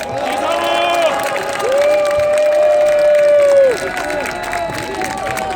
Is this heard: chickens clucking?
no